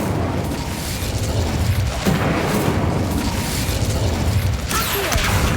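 An Incendio fire spell blasts in a Hogwarts video game, a loud, dense roaring whoosh of flame that stays steady and close throughout, with crackling texture on top.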